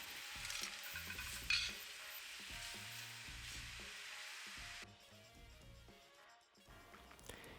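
Honey garlic sauce and pork belly sizzling in a pan while a utensil stirs and scrapes in bursts, the frying fading quieter toward the end.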